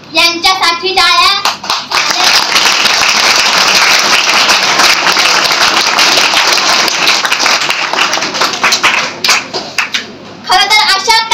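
Audience applause at a Savitribai Phule Jayanti and Women's Liberation Day program: loud, sustained clapping that rises after a brief spoken opening and fades as voices return at the end.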